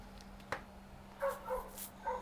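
A dog barks a few short times at middle distance in a repair workshop, the yips spaced out over a steady electrical hum, with no talking.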